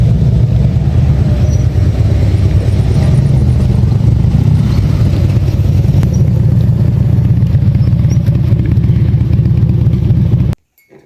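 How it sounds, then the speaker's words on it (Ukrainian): A Chevrolet car passes close by with a loud, steady engine and road rumble that holds for about ten seconds, then cuts off abruptly. "Дивіться, який автомобіль."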